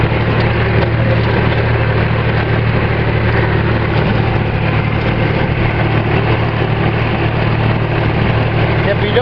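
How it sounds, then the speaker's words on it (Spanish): Tractor engine running steadily with a loud, constant low drone and rattling mechanical noise throughout, close by and unbroken. "En un tractor"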